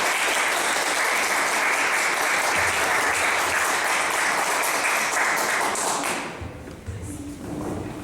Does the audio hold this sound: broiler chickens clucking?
no